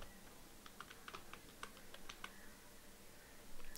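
Keys clatter on a computer keyboard in a quiet room, scattered clicks picking up pace in short bursts, with a louder final keystroke like a press of Enter; no one speaks.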